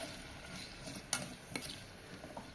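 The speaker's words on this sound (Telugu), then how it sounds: "కొంచెం ఒకసారి కలిపేసి మంచి ఘాటుగా ఉన్న ఉల్లిపాయలు కూడా వాసన బాగా వస్తున్నాయి" Onions get a quick stir in a kettle for egg curry, giving a faint, soft sizzle with a couple of light scraping clicks against the pot.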